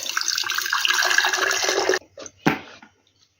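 Brine being poured off a jar of marinated tomatoes for winter preserving, a steady close splashing pour that cuts off abruptly, followed by a couple of short trickles and splashes.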